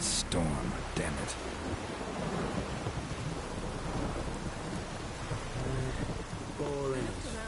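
A thunderstorm in The Witcher 3 delivers dense, constant rain with rumbling thunder rolling underneath, loud and close throughout, while voices briefly speak over the storm.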